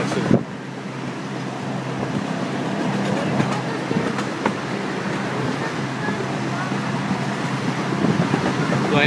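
Amusement park train ride at Knoebels rumbles along steadily with rolling wheel noise and wind buffeting the microphone, while people talk intermittently over the ride.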